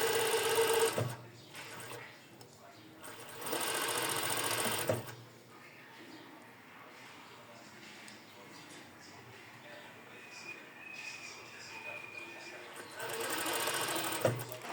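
A sewing machine stitches lace for a bra top in short bursts: a loud, fast whirring run, a pause, then another run, followed by quieter intermittent stitching while someone talks.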